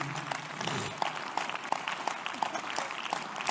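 A church audience claps for Jesus in a sermon setting, steady rhythmic applause with regular sharp beats, moderately distant, with voices mixed in.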